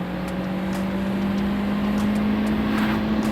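A car engine held at high revs against the rev limiter at a fuel station, giving a steady loud droning hum with a constant tonal whine and no talk.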